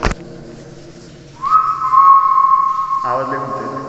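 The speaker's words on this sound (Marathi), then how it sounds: "आवाज लय घुमतोय" A loud, sustained whistle rings out inside rock-cut Buddhist caves carved into stone, holding steady for about two seconds with a strong echoing resonance, following a sharp tap and quiet ambience.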